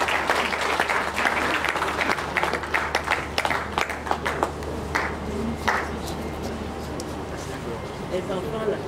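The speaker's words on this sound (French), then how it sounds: "Sous les applaudissements de mesdames et messieurs" Audience at a regional conference on women, peace and security gives dense, loud applause that thins toward the end, with a few sharp individual claps and a faint background voice.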